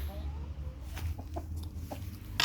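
Soft, scattered hen clucks and short calls over a steady low farmyard hum, with no talking.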